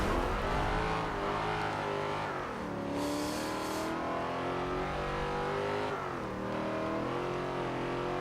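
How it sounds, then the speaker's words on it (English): A Formula E race car in the video game Forza Motorsport 7 drones steadily with a high electric whine, its pitch rising and falling as it accelerates and slows, with no talking. "Let's try this Formula E car. That's what it sounds like."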